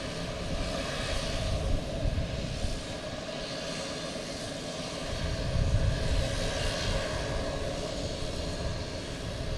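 An Embraer E175 jet airliner arriving at Boston Logan Airport roars steadily nearby, a broad low rumble with a high whine that swells slightly midway, with no voices.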